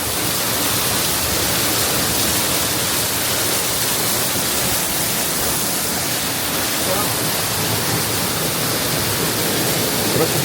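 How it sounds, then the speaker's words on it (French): A waterfall in the Geiranger fjord in Norway roars as a loud, dense, unbroken rushing wash very close by, filling the whole scene with steady white-noise spray and no clear talk over it. "Regardez, on est dans la cascade."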